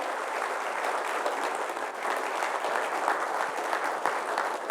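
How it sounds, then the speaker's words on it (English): Steady, dense clapping from a crowd, sustained at an even level throughout with no pauses. "Let's give a big round of applause to ourselves first."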